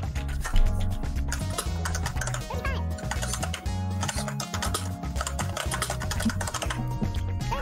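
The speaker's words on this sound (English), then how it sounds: "Who the fuck is typing right now?" Keyboard typing on a computer, a fairly steady patter of key clicks running throughout alongside continuous background game music or sound.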